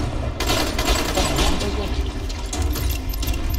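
Dense crackle of gunfire in the zombie video game Dying Light, rapid overlapping shots and impacts in a continuous burst lasting a few seconds, with a voice talking briefly underneath.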